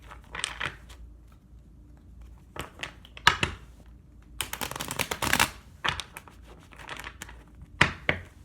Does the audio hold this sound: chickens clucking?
no